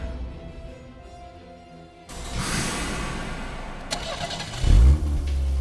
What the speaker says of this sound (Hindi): इंजन की आवाज?